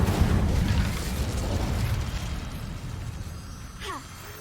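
An Incendio fire spell in Hogwarts Legacy erupts with a heavy, low whooshing blast that rolls on and slowly fades, followed by a brief sharp rising tone near the end.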